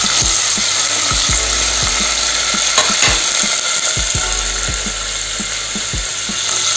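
Cinnamon, cloves and cardamom fry in oil inside a clay pot for mutton curry, giving a loud, dense sizzle with a constant bright hiss and a rhythmic series of low thuds from stirring, close by.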